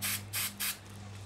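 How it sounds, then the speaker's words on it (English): Glue sprayed from a spray can onto a miniature conifer tree for model scenery: three short, close hissing bursts in quick succession, the last one quickly trailing off over a low steady hum. "you take your glue and you spray it straight down on top"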